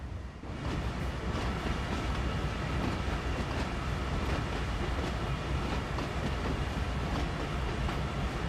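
A freight train in Train Sim World 5 on a desert route rolls steadily, a continuous dense rumble with faint rhythmic wheel clatter that stays loud and even throughout, with no talking.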